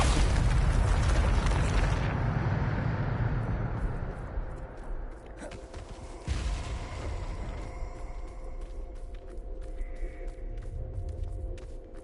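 A Bombarda spell blast in the game Hogwarts Legacy: a loud, heavy boom that fills the opening seconds, then rumbles and decays into crackling debris with a second smaller burst midway.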